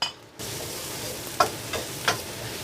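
Minced pork, dried Sichuan peppercorns, ginger, scallion and garlic stir-frying in a hot wok, a steady close sizzle with a few sharp scraping stirs of the spatula and no talking.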